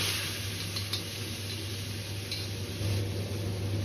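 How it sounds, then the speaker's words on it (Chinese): Tofu cubes frying in hot oil in a wok over a salted base, a steady close sizzle with light crackle, punctuated by a few faint utensil ticks and a brief louder surge near the end. "油熱後在鍋底撒上一些食鹽，接着倒入切好的豆腐塊"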